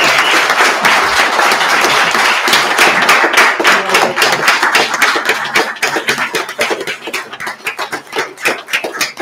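Loud round of applause at a Lemoore city council meeting, honoring Mr. Brown with a presentation from the state of California; dense clapping fills the room, then thins toward the end into looser, scattered claps.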